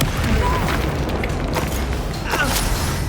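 A Bombardo spell detonates in Hogwarts Legacy as a loud, dense booming blast that fills the whole moment with rumbling low end and scattered crackle, with no pause from start to finish.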